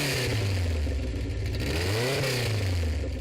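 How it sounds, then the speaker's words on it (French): A restored Alpine A110 sports car engine revs up and falls back, a steady close engine note with one rising and falling rev swell near the middle. "Le bruit de son moteur est à vous donner des frissons."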